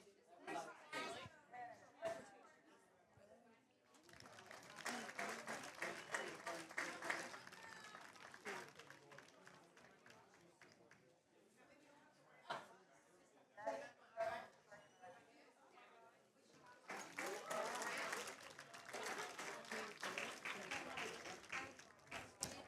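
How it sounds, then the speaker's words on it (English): A crowd at a high school swim meet between Destrehan and Hahnville applauds the seniors in two strong bursts of clapping. Crowd chatter and talk fill the quieter stretches between them, and the echo suggests an indoor pool. "Let's clap for these seniors here."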